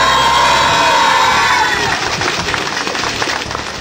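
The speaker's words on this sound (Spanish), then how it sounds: "para quien pido un fuerte aplauso" A large crowd at a campaign rally in Tlaxcala erupts in loud, close cheering and shouting mixed with applause, holding strong before easing slightly toward the end.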